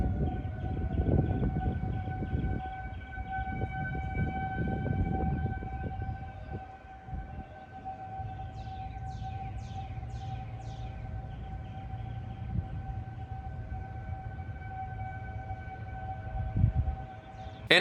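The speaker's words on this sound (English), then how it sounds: "It was just nothing but tornado sirens and outside." Outdoor warning sirens wail steadily in the distance, a sustained rising and falling tone, with rustling and a few short chirps nearby.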